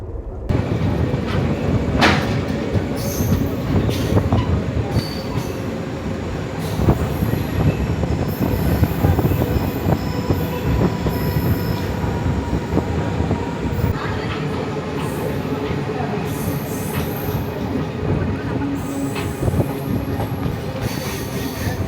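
The Nagercoil Express passenger train, running from Bangalore toward Nagercoil via Hosur and Salem, rumbles loudly and continuously, with rail clatter and wheel squeal throughout.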